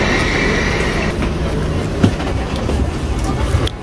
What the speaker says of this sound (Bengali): এই ট্রেনটাতে আমরা উঠছি